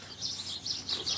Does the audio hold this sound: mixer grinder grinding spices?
no